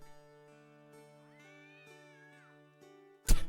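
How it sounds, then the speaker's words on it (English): Cat meowing in a video game, a drawn-out rising and falling meow heard clearly over a sustained tonal music bed, followed by a sharp loud burst at the end. "That cat noise."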